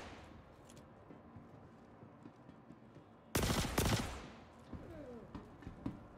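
Gunfire during a bunker mission in the video game Star Citizen: after a quiet, murmuring stretch, a loud burst of rapid shots erupts at close range, followed by a few scattered fainter shots and echoes.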